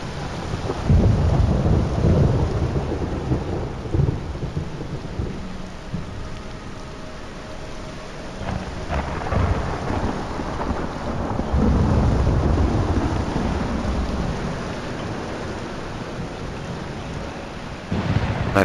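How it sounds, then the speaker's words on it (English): Steady rainfall with deep, rolling thunder swelling and fading several times in the video game Morrowind, the rumbles loud and close over a constant wash of rain. "All it ever does on this forsaken island is rain."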